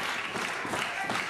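Spectators at a 2004 wrestling match clap in a steady, continuous patter of applause that fills the arena, with crowd noise mixed in.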